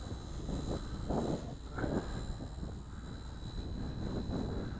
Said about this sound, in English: This is, again, a brushless helicopter.